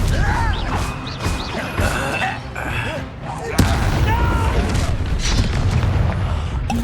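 Confringo fire spells burst in the Hogwarts video game as repeated booming explosions and crashing impacts, one sharp blast standing out mid-clip amid dense combat noise.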